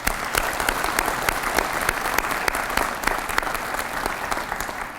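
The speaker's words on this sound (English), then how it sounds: "So if you would please give them another hand of applause" A crowd at a college president's installation ceremony claps steadily. The close, individual hand claps come through clearly over a sustained bed of applause.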